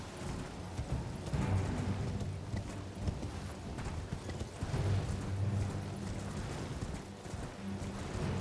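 Horse hooves clip-clop at a steady gallop in the video game Elden Ring, with rhythmic thuds and an occasional snort over a constant bed of game ambience.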